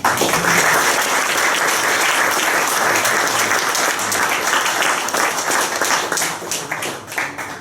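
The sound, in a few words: audience applause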